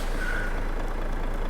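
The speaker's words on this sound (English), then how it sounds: "The brakes." An air-brake hiss from a heavy truck in a driving simulator game: a steady, loud broadband release of air with a faint tonal whine near the start, alone with no talk.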